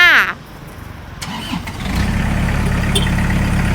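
An Iseki AT5520 tractor engine starts up after a brief beep, then settles into a steady low idling rumble, close and loud, with no talk.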